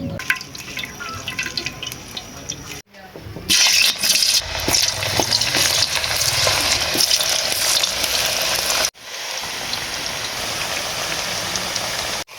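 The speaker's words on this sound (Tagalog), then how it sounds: "Sunod na gagawin natin mga idol ay ang pagpapainit ng kawali sabay buhos ng mantika." Cassava chips sizzle and crackle in hot oil in a pan, a loud, dense, continuous frying hiss with sharp spattering pops, close up, briefly cutting out between sections.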